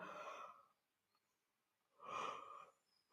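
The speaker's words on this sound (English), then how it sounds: "Wow, so many yawns." Two soft, breathy yawns during a quiet yoga session, each a drawn-out exhale of about half a second, separated by near silence, close to the listener.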